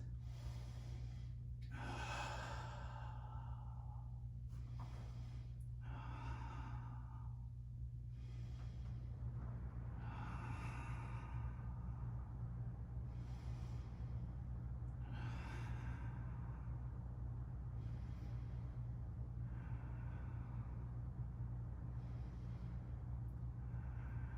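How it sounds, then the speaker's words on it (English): Slow, deep breaths held through a Pilates plank-style hold on the forearms, a steady series of audible inhales and exhales over a constant low background hum, with no talking. "we're gonna hold for 10 good Pilates breaths"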